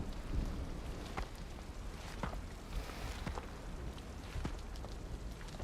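Steady rain from the timefall in the video game Death Stranding 2, a dense constant patter with scattered sharper drops and a faint low rumble underneath, heard alone without voices.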